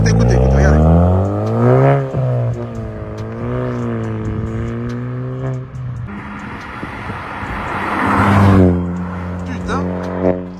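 A Volkswagen Polo converted into a Polo GTI revs loudly nearby, its engine pitch climbing and falling through several swells, with someone speaking French over and between the revs.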